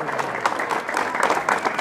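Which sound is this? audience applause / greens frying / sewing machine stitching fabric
audience applause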